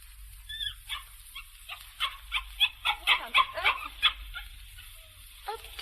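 A small puppy yips and barks in a quick run of short, close calls within a radio drama, the barks clustering in a rapid burst before tapering off over a quiet background.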